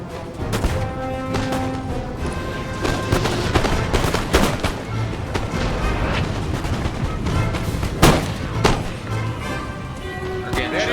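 Musket volleys from massed infantry in Napoleon: Total War, a dense battlefield roar of repeated gunfire cracks and booms, with a voice talking over the continuous din.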